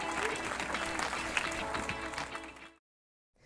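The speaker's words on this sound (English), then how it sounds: "Big round of applause for Adam Ramirez" Applause from a group at a small theater gathering for Adam Ramirez, dense clapping with some voices mixed in, fairly faint, then cutting abruptly to silence.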